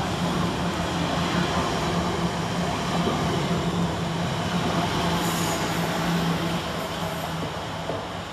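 A London Northwestern Railway train from Liverpool Lime Street to Birmingham New Street rolls through Smethwick Galton Bridge station, giving a loud, continuous rumble of wheels on rails with a faint squeal near the end.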